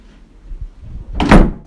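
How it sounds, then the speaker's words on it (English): A door closes off-screen in a film scene, a single thudding slam near the end after faint low shuffling that may be footsteps, heard alone without talk. "the footsteps and the closing door sound is a diegetic off-screen sound, which Bong Joon-ho incorporated"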